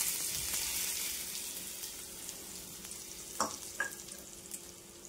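A hot tempering of cumin, asafoetida and curry leaves crackles and hisses as it hits raw mango chutney, a steady close sizzle with a couple of sharp pops near the end, no voices.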